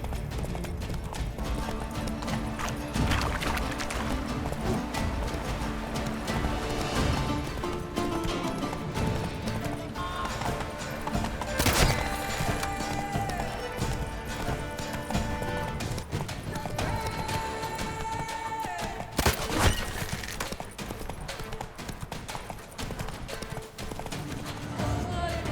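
Horse hooves galloping in The Witcher 3: Blood and Wine, a fast continuous clip-clop pounding throughout with occasional snorts and whinnies, close and loud, with a few sharp impacts along the way.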